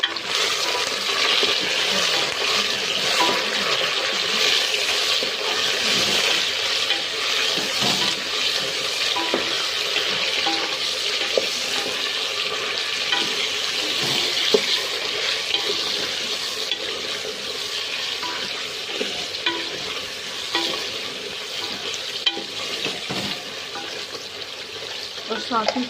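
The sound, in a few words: chicken added to golden brown onions, frying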